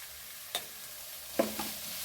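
A spoon stirs onion with chili powder and turmeric powder in a pan, a couple of brief scraping knocks over a faint, low sizzle.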